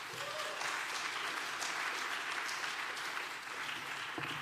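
A church congregation at a Marine Corps church in Gimpo applauds a Sunday preacher, a sustained even wash of many clapping hands, fairly faint and distant, continuing throughout.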